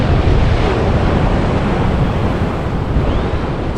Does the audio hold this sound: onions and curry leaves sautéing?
no